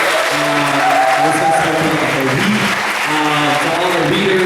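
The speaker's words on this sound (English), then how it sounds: "could we please give I know we've done it a couple times, but another round of applause for all the organizers and volunteers." Applause fills the room at a literary festival. It stays loud and steady throughout, and voices can be heard within the clapping.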